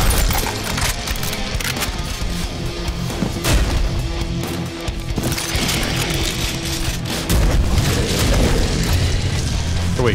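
Shotgun blasts in the shooter Prodeus come as repeated loud booming shots amid a dense, chaotic mix of explosions, metallic clatter and game effects, with a heavy low-end rumble throughout.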